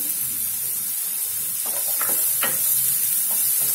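Chopped green chilies sauté in hot oil for rava upma, giving a steady broadband hiss and sizzle with a few brief spattering crackles partway through.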